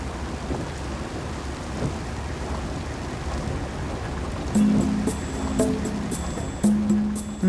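Monsoon rain falls steadily in South India with a low rumble of thunder, the downpour a constant wash of noise with a few sharper tonal sounds breaking in near the end.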